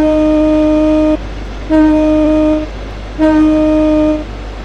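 A Southeastern train running from Faversham to London sounds three steady horn blasts, each about a second long with short gaps, loud and close, over a constant low rumble of the moving train.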